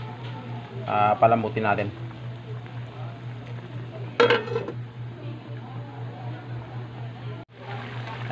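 A metal lid clatters onto a cooking pot of pork humba, two bursts of clanking several seconds apart over a steady stove hum, with a person talking in between.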